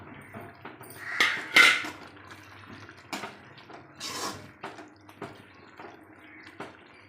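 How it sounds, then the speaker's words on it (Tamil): Fried bitter gourd tipped into simmering gravy in a pan, with a few soft splashy clatters and drips spread over several seconds, fairly close and quiet between bursts. "அடுத்தது பொரிச்சு வச்ச பாவக்காய் போடலாங்க."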